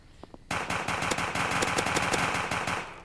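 Rapid automatic gunfire in a Roblox game, a loud burst of fast, evenly spaced shots running for over two seconds after a couple of faint clicks, with no talk.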